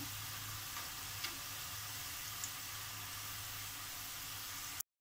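Pepper karasev dough deep-frying in hot oil, a steady broadband sizzle holding level throughout with a couple of faint clicks, alone and without talk, cutting off abruptly at the end.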